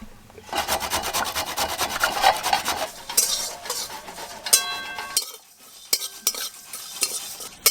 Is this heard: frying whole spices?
yes